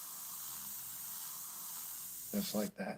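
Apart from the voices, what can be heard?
airbrush spraying transparent paint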